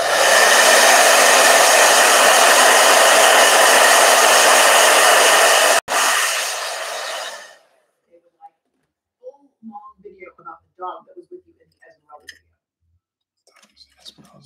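A hair dryer blows loud and steady, with a brief break near the middle, then shuts off; faint clicks and soft voices follow.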